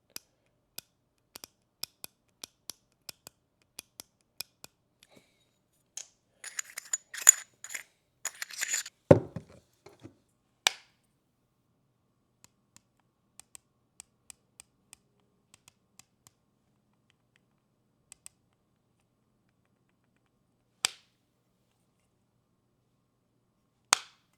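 The turret cap on an EOTECH Vudu scope is unscrewed. Faint, sparse ticks and light clicks of metal threads come close up, then a short cluster of scraping clicks, followed by long near-silence broken by a few isolated taps.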